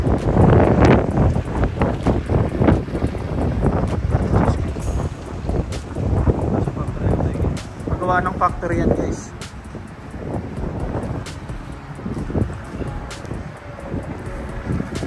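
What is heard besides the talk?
strong wind outdoors in snow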